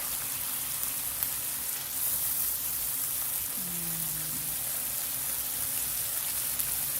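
Bacon frying in a pan, a steady close crackling sizzle with a brief low tone near the middle and no talking.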